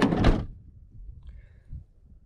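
Sliding door of a converted VW Transporter van slamming shut with a loud broadband thud at the start, followed by faint low rumbles and small rattles.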